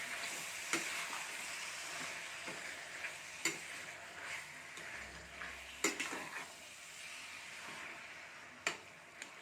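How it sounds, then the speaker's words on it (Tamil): Mutton intestines being stirred into gravy in a pan, with a steady quiet sizzle and soft, irregular scraping taps of the stirring utensil, and no voices. "குடலை சேர்த்து நல்லா மிக்ஸ் பண்ணிக்கலாம்."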